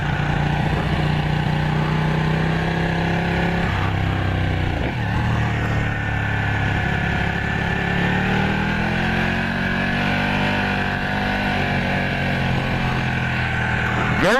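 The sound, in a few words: motorcycle being ridden, 232 horsepower bike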